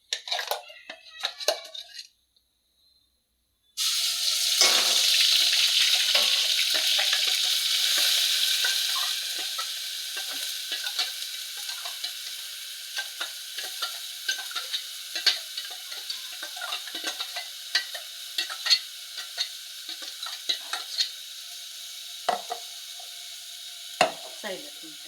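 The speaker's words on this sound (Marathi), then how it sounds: "मग आता आपण फोडणी टाकूया." Masala tempering hits hot oil in a pan on a gas stove, a sudden loud sizzle after a brief silence, fading into a steady frying hiss with scattered small crackles and pops.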